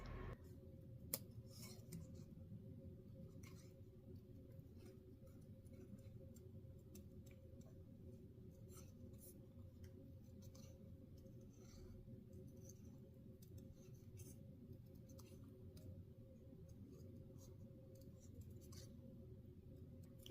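Scissors snip quietly through cardstock while a holiday wreath is cut out, a faint run of small irregular clicks and snips over a low steady hum.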